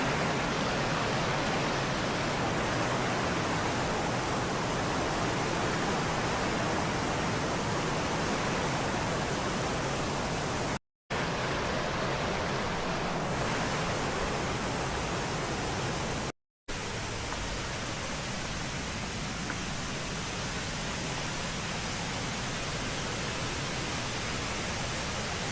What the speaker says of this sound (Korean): 폭포 소리가 엄청나게 크게 들리고